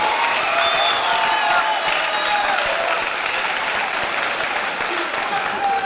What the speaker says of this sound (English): go and give them a round of applause as well